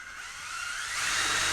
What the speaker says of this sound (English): I've got a piece of wood underneath for my drilling, so I don't drill through the table.